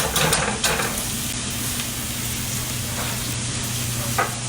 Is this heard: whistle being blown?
no